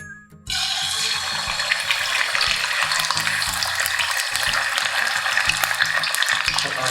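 Lapu-lapu fish drops into hot oil and fries loudly, a dense bright sizzle that starts abruptly and holds steady, with low clattering of pan or utensils beneath.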